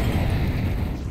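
A smoke grenade deploys during a pro Counter-Strike match on the Nuke map, giving a steady loud low hiss and rumble that fills the whole moment with no clear break.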